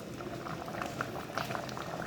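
Black sticky rice and mung bean porridge bubbles at a steady boil in a pot, giving a continuous dense bubbling and popping texture at close range with no talk.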